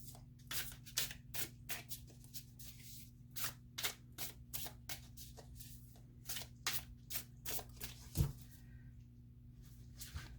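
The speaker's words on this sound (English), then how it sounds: "I'm going to shuffle it one time, like a cascade." A deck of tarot cards is cascade-shuffled by hand, giving a quick run of crisp riffling flutters and soft slaps, close and clear in a quiet room.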